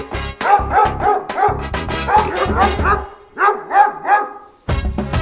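A dog barks repeatedly in quick bursts, loud and close, with short yips between groups of barks.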